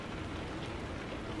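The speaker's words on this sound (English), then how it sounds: "Heavy rain like this with wind." Heavy rain driven by wind in Euro Truck Simulator 2, a dense, steady hiss of downpour filling the whole moment at an even loudness with no voices.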